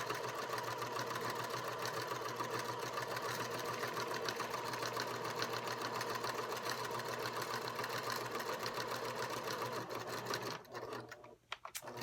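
Sewing machine stitching down the side of a fabric basket piece, a steady close mechanical whir running continuously before slowing and stopping near the end.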